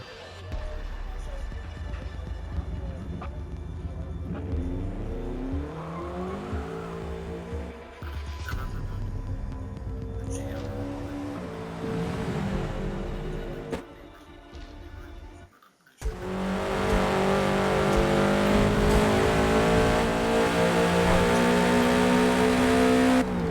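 Toyota GR86 race cars lapping Hockenheim in a Forza Motorsport racing game, engine tones rising and falling through shifts, then a louder sustained full-throttle drone after a brief drop, with some talk over the engines.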